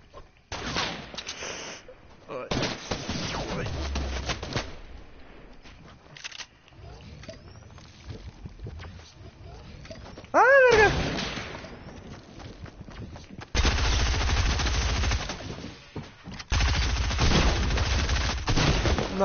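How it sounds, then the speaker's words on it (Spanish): Gunfire in the video game Fortnite, with sharp bursts and volleys of shots scattered through the clip amid game sounds, some loud and near, others more distant. "Oh Dios, escucho balazos."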